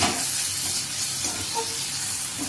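Spices and soybean curry fry in a little oil, giving a steady, close sizzle and hiss that runs unbroken with no voices over it.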